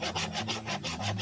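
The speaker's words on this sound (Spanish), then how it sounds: "Serruchar," Hand saw cutting through wood while building a rabbit shelter, a steady back-and-forth rasp of repeated strokes, close and fairly loud, with no voices.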